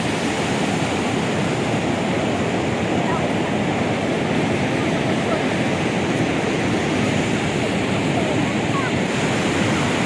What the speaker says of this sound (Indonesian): Tengok ombak, ya Allah.